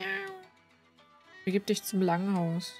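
A cat in the video game Rise of the Ronin gives a few loud, drawn-out meows near the end, following a spoken line of game dialogue.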